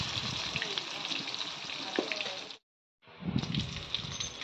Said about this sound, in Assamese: 3 পিচে দিলোঁ প্ৰথমতে আৰু লাহে লাহে লৰাই পেলাই মাছকেইপিচ ভাজিলোঁ।